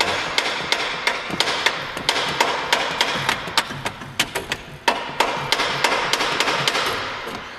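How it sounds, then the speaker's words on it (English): Repeated sharp metallic taps of a brass hammer striking a car starter motor, roughly evenly spaced, close and fairly loud, with a slight echo in an enclosed space. "I'm just going to get down in here with a hammer and give it a few taps"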